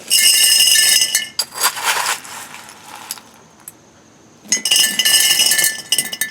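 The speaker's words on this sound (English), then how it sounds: "we're going to go ahead and start by adding the pea gravel layer" Pea gravel is spooned into a glass pickle jar in loud, close bursts of rattling, clinking stones against glass, with a quiet gap in the middle before another scoop pours in.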